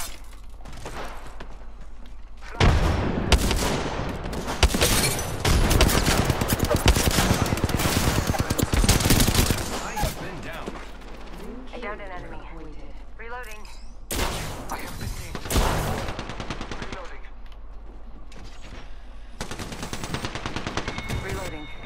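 Automatic gunfire rattles in a shooter video game, with dense bursts of rapid fire in long stretches separated by quieter gaps, while players talk over the action.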